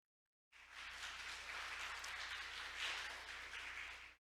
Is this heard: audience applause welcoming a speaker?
yes